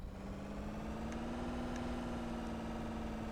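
A car engine idles in the video game Car Dealer Simulator, a steady droning hum with a constant low tone, moderately quiet, with a few faint clicks and no voices.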